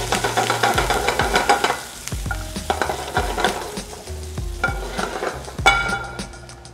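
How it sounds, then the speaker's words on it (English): Meat is pan seared in oil and melting butter with a sprig of thyme, giving a close sizzle broken by repeated metallic clanks and scrapes of a utensil against the pan. "I'm gonna pan sear them and then finish them in the oven."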